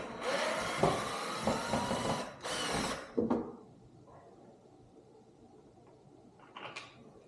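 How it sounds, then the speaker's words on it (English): A power tool buzzes steadily for about three seconds as screws are backed out of a built-in Whirlpool microwave, followed by scattered clicks and clatter of parts in a quiet room. "the first thing we're going to do is take off these 4 screws"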